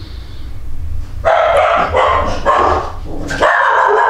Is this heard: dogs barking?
yes